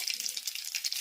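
Spices such as mustard seeds, cumin and fenugreek, with curry leaves, sizzling in hot tempering oil for a chana curry, a brief bright hiss with quick crackles, close and fairly quiet.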